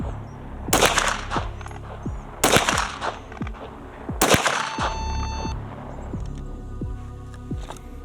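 Stock Glock pistol shots crack out on an outdoor shooting range, three sharp loud reports spaced about two seconds apart, each with a brief ringing echo and no talking.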